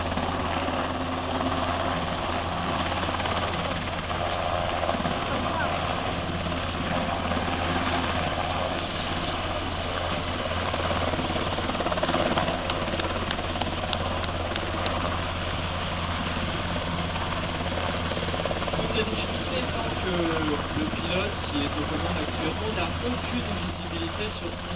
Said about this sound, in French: Le pilote tire légèrement le manche pour venir ralentir sa voilure tournante et on vient en même temps perdre un petit peu d'altitude